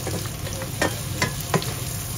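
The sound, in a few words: garlic frying in a pan for labong adobo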